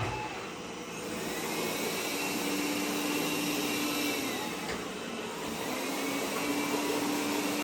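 Dreametech Bot W10 robot vacuum running steadily with a broadband whirring hiss, moderately loud and close, shifting from standard mode to maximum suction, with no talk.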